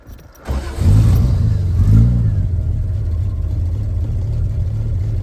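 A 1972 Triumph TR6 with a 2.5 liter inline six cranks briefly and catches, rising into a loud, steady exhaust rumble with a slight rev before settling into an even idle.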